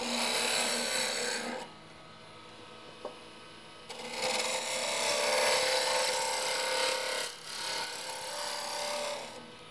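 Continuous rasping hiss of a wooden chair leg spindle being cut as it spins on a lathe, broken by two short pauses, close and fairly steady.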